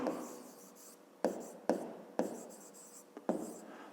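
Pen scratching across paper while a fifth-grade maths exercise is worked out, a steady close scrape broken by several sharp taps and pauses between strokes, with no one talking.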